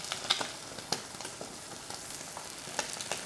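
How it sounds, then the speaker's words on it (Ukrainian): Soft, steady sizzling of food frying in a pan, with occasional small pops and crackles throughout, no talking. "Все смажимо з іншої сторони також до рум'яного, гарного кольору."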